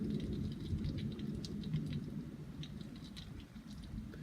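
Almost gumball-sized hail falls during a tornado warning, making a steady, dense pattering and rattling that stays fairly faint and even throughout, with no voices.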